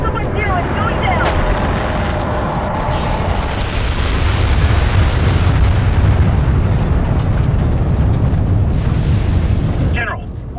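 Skycrane dropship crashing and exploding in the video game Section 8, a loud sustained roar of blasts and rumbling debris lasting about ten seconds, close and dense, with radio voices over it.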